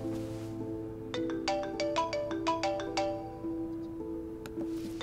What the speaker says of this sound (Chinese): 我去接个电话。